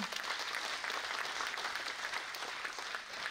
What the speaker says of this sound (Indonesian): jangan tepuk tangan nanti saya lupa